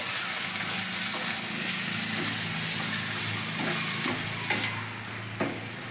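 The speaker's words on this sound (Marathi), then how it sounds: "आता आपलं म्हणजे कांदा झालेला आहे लालसर शिमला मिरची टाकते पहिले" Chopped capsicum hits reddish fried onions in a hot pan, giving a loud steady sizzle with stirring scrapes and a few sharp spoon knocks toward the end, heard up close without speech.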